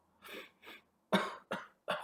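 Five short coughs, two softer then three harder and sharper, close and alone in a quiet room.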